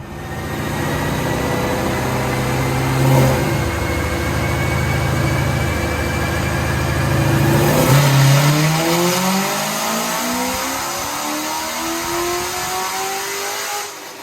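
A Chevrolet Corvette C7 fitted with an LT4 engine conversion kit drives on a road test, its engine droning loud and steady, then dropping and climbing again through gear changes with rising revs, no voices over it.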